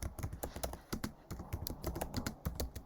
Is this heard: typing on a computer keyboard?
yes